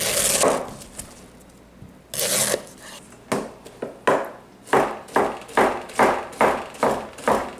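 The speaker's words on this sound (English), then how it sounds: "I'm just cutting down each side of it in a little square here" A knife cutting down the sides around a pepper core, several soft crunching slices followed by a steady run of evenly spaced cuts against a board, close and clear.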